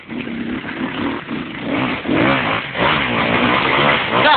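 An engine revs as the throttle is opened, with a continuous close motor roar that rises and falls in pitch. The sound is muffled and narrow.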